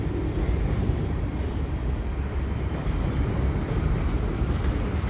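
CN 527 freight train, a long one, rolling past the St Patrick Street Bridge with a steady, dense low rumble and clatter of wagons, continuous throughout.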